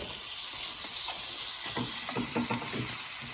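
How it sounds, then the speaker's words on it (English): Tender rabbit fronts and hinds sauté in a hot pan, a continuous bright sizzle that swells midway as irregular crackles and spatters pop through it. "these are gonna saute, and they're tender."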